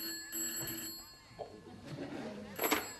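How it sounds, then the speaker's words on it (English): A telephone bell rings faintly in a room in a 1969 British sitcom, intermittent ringing set far back under other voices and room noise. "Thelma, there is the phone ringing its head off."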